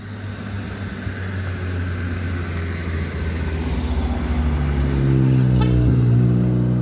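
Road traffic rumbles steadily throughout, with a car engine swelling louder and nearer toward the end as it passes on the road, no talk heard.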